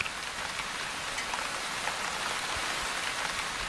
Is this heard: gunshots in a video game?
no